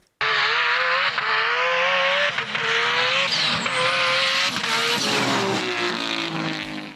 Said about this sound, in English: I'm going to take this for a drive